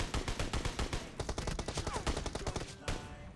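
Rapid gunfire from an online shooter video game rattles in quick bursts of sharp shots, some in fast automatic strings, fairly faint overall.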